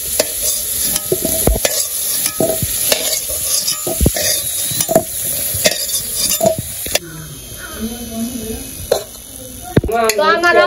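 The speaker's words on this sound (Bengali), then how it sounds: "আমার আলুগুলা ভাজা হয়ে গেছে" Potatoes fry in a pan under constant stirring, a loud sizzle punctuated by spatula scrapes and knocks against the metal. A person talks over the cooking in the second half.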